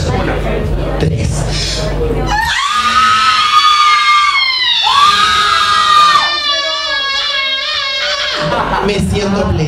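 A group of people scream together right after a countdown, one loud shared shriek that rises, breaks and rises again for several seconds over a noisy crowd.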